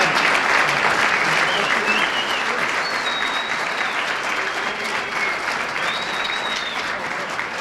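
Sustained applause from guests at a black-tie gala, loud at first and gently tapering, with a few faint whistles or cheers mixed into the clapping.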